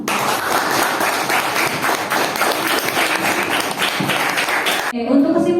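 A classroom of students claps for several seconds in a lively burst of close, dense applause, which stops abruptly near the end as a voice begins speaking.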